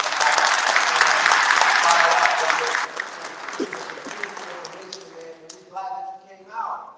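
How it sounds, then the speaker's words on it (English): A room of men at a monthly community meeting breaks into loud, dense applause that fades after a few seconds into scattered claps while voices start talking. "brothers, give yourself a round of applause"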